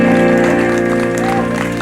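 Worshippers in a church applaud warmly for a short burst, the clapping loud and close over lingering music.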